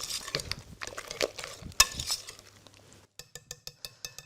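A spoon stirs a thick savory cake batter with chopped parsley in a bowl, giving soft wet scraping and a few clinks, then a steady run of evenly spaced taps against the bowl.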